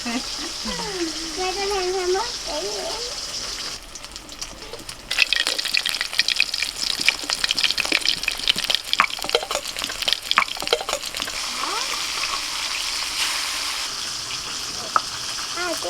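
Mrigal fish frying in a pan, a steady hiss and crackle of hot oil that turns louder and busier partway through, with occasional stirring and someone talking over it early on.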